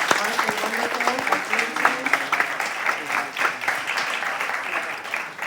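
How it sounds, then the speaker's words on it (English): A conference audience claps for panelists in a steady, moderately loud round of applause that lasts the whole stretch, with voices mixed in under the clapping. "Give our panelists a round of applause for taking you behind the scenes."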